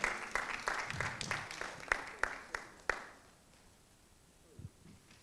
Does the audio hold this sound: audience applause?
yes